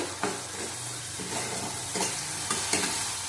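Cumin powder frying and being stirred in a pan while cooking katla fish, with a steady sizzle under repeated scraping strokes of a spoon across the pan.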